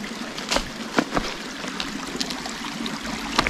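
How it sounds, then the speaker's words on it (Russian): Spring water in a small stream trickles and splashes steadily nearby, with occasional brighter drips and splashes over a soft continuous flow. "подходите к правой стороне ручья, берете воду,"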